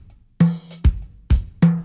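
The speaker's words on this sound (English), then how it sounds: "I'm using the 70s drum library from Native Instruments" Virtual 1970s-style acoustic drum kit from a Native Instruments sample library, playing four separate hits: kick thumps with bright snare and cymbal cracks, close, punchy and loud with short decays and no talking.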